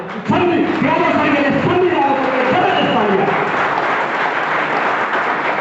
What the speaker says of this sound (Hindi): मेरी तरफ से एक बार जबरदस्त तालियां